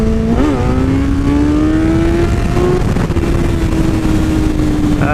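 A car engine revs hard and rises in pitch as it approaches, with a Mustang-like growl that holds a loud, sustained roar throughout; close, with no talk over it.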